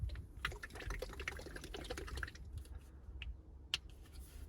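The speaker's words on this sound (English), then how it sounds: "shake the bottle" A bottle of leather protection cream being shaken for a BMW M4 leather treatment, a quiet close sloshing and rattling for a few seconds that fades to a couple of faint clicks.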